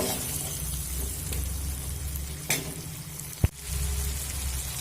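Fried paneer pieces stir-fried in a pan for a vegetarian paneer tadka, a steady low sizzle running throughout with a couple of sharp spatula knocks near the end.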